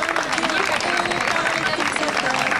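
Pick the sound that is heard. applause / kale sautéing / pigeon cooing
applause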